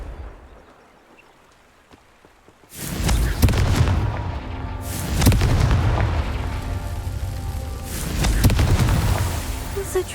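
Booming fire-spell explosions cast in the Hogwarts Legacy video game, three heavy blasts a couple of seconds apart after a quiet start, each with a rumbling tail.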